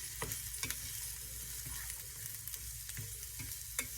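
Chopped onions sweat and sizzle steadily in a hot pan, with a few sharp clicks and scrapes of stirring rising above the soft, continuous frying hiss.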